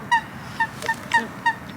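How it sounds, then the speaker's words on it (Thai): A few short, nasal duck calls sound in a spaced series, about five honking quacks over quiet waterside background. "ฟังเสียงเป็ด"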